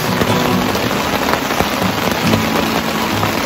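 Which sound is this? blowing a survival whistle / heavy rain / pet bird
heavy rain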